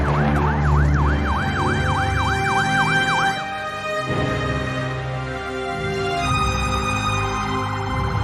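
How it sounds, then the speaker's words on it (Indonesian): A fire truck siren wails loud and steady, its rising and falling tone sweeping in quick regular cycles before shifting to a longer held pattern, with engine rumble underneath. "mereka yang mendengar suara sirine damkar"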